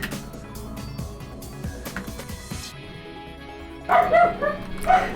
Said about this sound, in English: the neighbor's dog is still barking